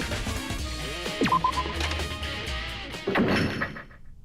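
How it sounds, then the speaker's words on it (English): A heavy door in the Danganronpa video game thuds shut, followed moments later by a second metallic clunk as it locks, both sounding close and fairly loud over a low ambient hum. "As soon as the door to the data center was closed, I heard a strange sound."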